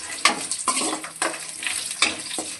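Chitranna ingredients frying in a pan with steady sizzle, punctuated by several sharp scrapes of a spoon stirring at irregular intervals, close and clear with no talking.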